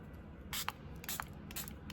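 Three quick hissing bursts from a hand spray bottle misting watercolor paint, each short and close, spaced about half a second apart over quiet room tone.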